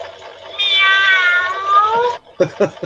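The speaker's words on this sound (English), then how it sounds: "Listen to the cat." A loud, drawn-out electronic meow from a toy, steady and close, followed by a couple of short clicks.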